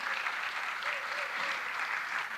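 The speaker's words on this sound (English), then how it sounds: "The loudest round of applause" A round of audience applause at an architecture and design dialogue event, steady dense clapping heard from a distance at moderate volume throughout.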